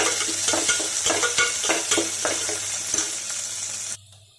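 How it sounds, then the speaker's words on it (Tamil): Small onion, four garlic cloves and curry leaves sauté in a pan for beetroot poriyal, a lively sizzle punctuated by repeated spatula stirs and scrapes that cuts off abruptly near the end. "ஒரு சின்ன ஒரு வெங்காயம் ஒரு நாலு பல் பூண்டு கொஞ்சம் கருவேப்பிலை சேர்த்துக்கலாம் வெங்காயம் நல்லா வதங்கி வரணும்"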